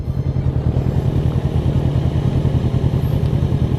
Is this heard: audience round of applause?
no